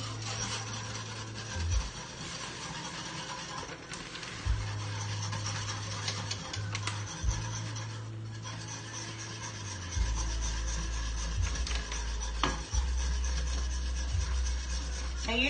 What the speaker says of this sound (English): So it's coming to a rolling boil, so we're going to whisk this in.